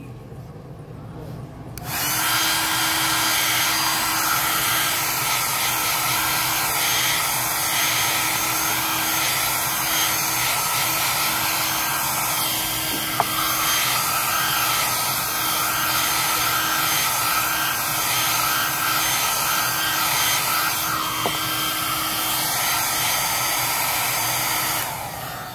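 A hair dryer blows steadily on a painting at an art market, a loud continuous whir that runs almost unbroken for the whole stretch after a brief quiet start, with a slight wobble in pitch midway and no talk.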